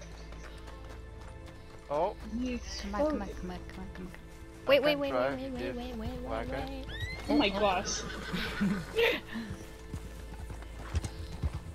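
Horse hooves clip-clop steadily in Red Dead Redemption 2 while people talk excitedly over them; the rhythmic clopping continues under the voices.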